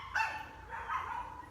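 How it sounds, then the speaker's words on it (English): Dogs bark at a distance from inside a home, with two drawn-out bursts of barking that are fairly loud but somewhat muffled, with no talking. "my dogs are barking"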